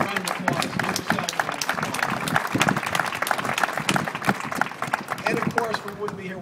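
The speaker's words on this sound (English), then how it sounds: "let's give everybody a round of applause" A crowd applauds at the grand opening of a downtown bicycle station, with dense, steady clapping that stays loud and even for several seconds while voices murmur underneath.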